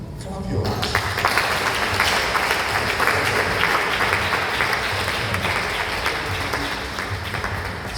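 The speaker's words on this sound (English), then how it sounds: "So can I ask all of you to clap your hands?" An audience clapping together, breaking into loud, sustained, dense applause after a short quiet opening and holding steady to the end, with faint voices under it.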